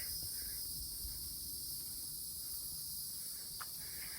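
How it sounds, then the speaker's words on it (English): Cicadas drone in a continuous high-pitched buzz in summer at Fort Frederica, St. Simons Island, Georgia, faint and steady, with a few scattered rustles and clicks below. "Oh, cicadas in the summer."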